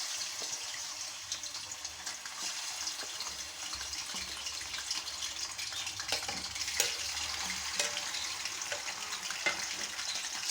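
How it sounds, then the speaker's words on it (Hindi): Chicken pieces frying in hot oil in a kadai for a Shinwari chicken karahi, made without onions; a steady, fairly quiet hiss and crackle runs throughout with scattered small pops and no talking. "चिकन को हमें इतना फ्राई करना है कि इसका कलर चेंज हो जाए"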